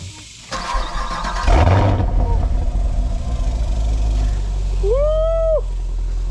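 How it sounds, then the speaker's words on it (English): A Chevrolet Camaro SS 1LE V8 cranks and fires up nearby, a loud burst of ignition settling into a deep, rumbling idle, with a brief whistle-like tone near the end. "Oh, you gotta hear that boy start up."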